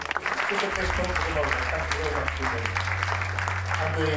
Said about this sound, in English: the winner, a big round of applause coming here